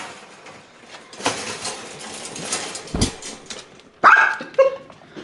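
A dachshund puppy barks in two sharp, close, loud bursts near the end, after a stretch of quiet shuffling and background noise with a single thump.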